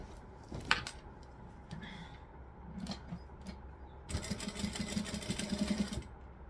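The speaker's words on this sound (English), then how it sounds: "I'm going to tuck under an edge and pull tight and then stitch it shut" A sewing machine stitches a fabric pocket shut on a bag in a short burst near the end, preceded by quiet handling noises of fabric.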